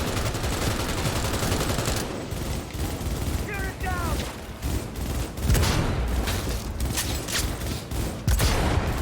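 Gunfire in the video game Cyberpunk 2077 makes dense bursts of rapid shots and booms mixed with game sound effects, constant and loud throughout, with a voice speaking over it.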